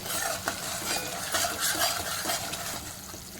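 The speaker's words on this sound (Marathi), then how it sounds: "आपल्याला चांगलं तेलामध्ये परतून घ्यायचं आहे" Thick tomato masala paste frying and being stirred in oil for paneer tikka masala, a steady close sizzle with repeated scraping strokes of a spoon and occasional metallic clinks, no voices.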